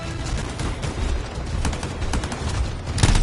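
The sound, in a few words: gunfire in the video game Anthem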